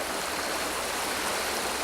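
Water flows nearby as a steady, broad rushing hiss like a stream, constant and fairly loud throughout with no voices or other sounds.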